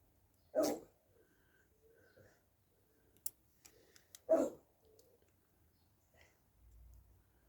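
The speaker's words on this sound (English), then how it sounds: "Who's the dog? He's barking." A dog gives two separate sharp barks several seconds apart, with faint ticking and small clicks in between in an otherwise quiet room.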